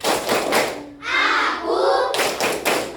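A class of students doing a rhythmic concentration clapping routine, sharp claps and taps in quick bursts with a brief pause in the middle, close by in a classroom, with voices chanting alongside.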